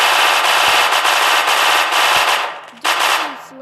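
Submachine gun in the video game Melon Playground firing a loud, continuous rapid burst of shots that cuts off briefly near the end before a short final volley.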